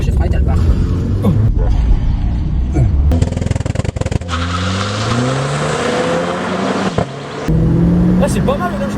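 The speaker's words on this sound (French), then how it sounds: "Tu lâches les palettes, pied à fond sur l'accélérateur, à fond." Renault Clio 4 RS making a launch-control start at full throttle: a loud held rev and sharp bursts from the launch, then rising engine pitch through the gears as it accelerates, with people talking in the car.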